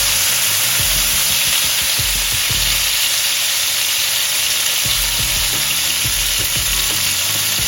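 A lean steak sears in a hot frying pan, cooked to medium, giving a steady, loud, close sizzle and crackle with a few soft bumps and scrapes from the pan. No one speaks.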